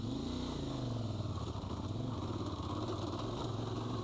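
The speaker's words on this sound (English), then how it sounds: "That clanking of the engine just struggling to get going again." A 450lb adventure motorcycle on a motocross/enduro track, its engine chugging and clanking as it struggles to pull, a steady, loud, uneven low rumble throughout.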